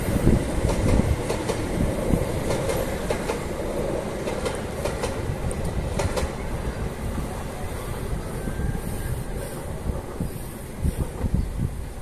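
Bandung Raya local commuter train rolls past on rails after leaving Gadu Bangkong station, a loud continuous rumble with wheel clatter and faint squeals throughout, heard close by.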